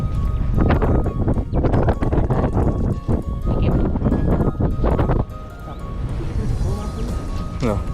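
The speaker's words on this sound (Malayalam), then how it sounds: "ആഹാ, നല്ല കാറ്റുണ്ട്" Strong coastal wind at the Dolphin View Point in Samut Sakhon, Thailand, a constant rough roar buffeting the microphone, with someone talking over it and the gusts easing slightly toward the end.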